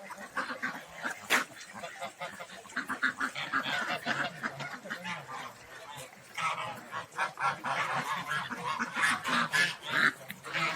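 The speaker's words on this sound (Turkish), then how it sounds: "Yerli ördek, pekün ördek, karma karış." Domestic and Pekin ducks quacking and honking in a noisy mixed flock, calls overlapping continuously at moderate distance with little pause.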